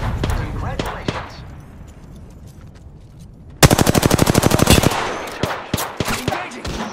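Gunfire in a battle royale video game cracks out as a sharp rapid automatic burst of about a dozen shots, preceded by scattered single shots and quieter ambience, with more shots trailing after.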